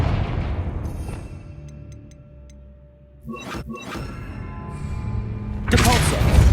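A Confringo fire spell blast in Hogwarts Legacy: scattered thuds and whooshing impacts over quiet game ambience, building to a loud, bright burst near the end.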